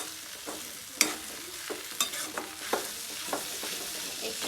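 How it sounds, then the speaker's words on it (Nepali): Freshly ground spice paste frying in hot oil for a Nepali mushroom curry, a steady close sizzle broken by irregular scraping stirs of a spoon against the pan. "एकछिन मसलालाई चाहिँ भुट्यौँ।"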